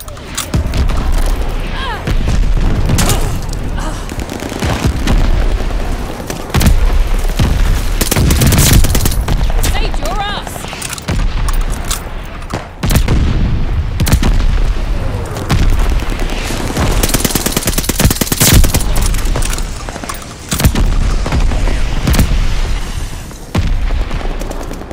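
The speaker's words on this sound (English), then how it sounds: "Allies calling a mortar barrage." Mortar barrage explosions and rapid gunfire in the WWII shooter Call of Duty: Vanguard, loud and almost continuous booms and bursts of fire, with brief lulls and game voice lines mixed in.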